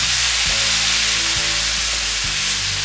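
Water splashed into a hot pan of browned Chinese dumplings with garlic leaves, raising a loud, dense, steady sizzle that fills the whole stretch without a pause.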